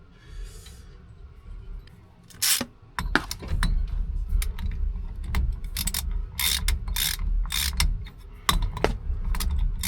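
Steering wheel nut on a classic car being tightened down over a thick washer against aluminum, a run of sharp ratchet clicks and metallic taps close by, rhythmic bursts over a low rumbling background, with no talking.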